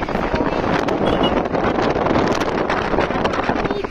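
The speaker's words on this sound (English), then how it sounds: "And it's too windy." Gusty wind buffets the microphone with loud, uneven rumbling bursts throughout.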